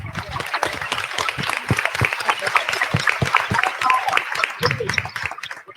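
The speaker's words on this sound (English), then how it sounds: "let's applaud first the vulnerability that we saw in that movie" Audience applause at a film Q&A with the filmmakers and cast, uneven clapping with individual claps standing out, fairly close and fading near the end.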